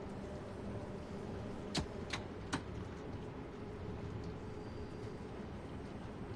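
A London Underground Bakerloo Line train in Train Sim World 2 rumbles steadily along the track, with a few sharp clacks partway through and a faint whine above the continuous rolling noise.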